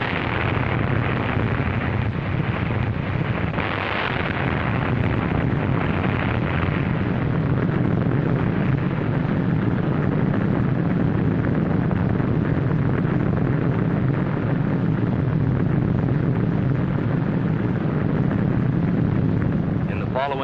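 A nuclear bomb blast from the Operation Crossroads test rumbles as a continuous, loud, low roar with broad noise that stays steady for about twenty seconds, rough and saturated throughout.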